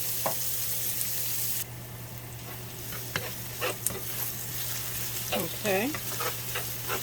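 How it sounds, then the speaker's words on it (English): Sliced onions sautéing in a pan for pork chop onion gravy, giving a steady low sizzle with scraping and stirring clatter throughout, and a brief spoken word from a nearby voice. "And you just want to kind of saute"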